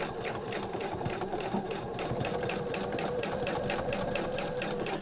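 A sewing machine stitches a simple beginner's bag in a fast, even, rhythmic chatter that continues without pause, close and clear, with no talk over it.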